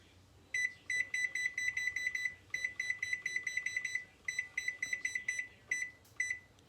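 An electronic kitchen timer beeps rapidly while being set for the oven, bursts of sharp, high, evenly spaced beeps repeating in quick runs with short gaps, close and clear.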